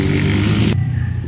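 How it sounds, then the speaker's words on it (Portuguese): Noisy old motorcycles pass by outside, a loud broadband engine roar that cuts off abruptly partway through, leaving a quieter low rumble. "Essas motos velhas barulhentas do caralho."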